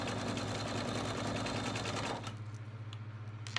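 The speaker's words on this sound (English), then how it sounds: "So I'm just running these through the 1/4 inch seam" A sewing machine runs steadily, stitching quilt fabric pieces through a quarter-inch seam for a Dresden plate quilt. The motor hum is close and continuous, then eases into a softer, rhythmic pulsing near the end.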